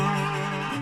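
A 1935 National Duolian resonator guitar in open D tuning, its slide overshooting the note: a short sustained metallic tone that bends upward slightly sour near the end, close and clear with no talking.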